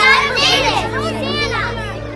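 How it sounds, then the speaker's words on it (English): Children cry out together in a temple, a dense, lively mix of young voices shouting and calling over each other, close and loud throughout. "the children crying out in the temple"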